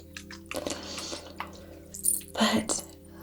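Moon water is sprayed or spritzed during a soft-spoken reiki session, with a few hissing bursts of mist and faint droplet sounds close by, over a low steady background hum.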